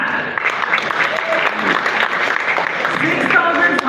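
Audience applause at a smartphone launch event, a dense, steady wash of many hands clapping close and loud for the full length, with cheers or voices mixed faintly into the crowd.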